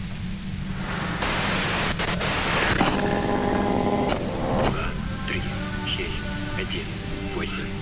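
Loud hissing white-noise static from the video game Disco Elysium fills the clip and swells in a harsh burst partway through, with a steady hum underneath and a voice speaking over it.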